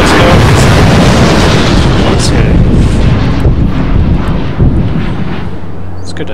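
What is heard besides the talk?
fireworks in SimCity video game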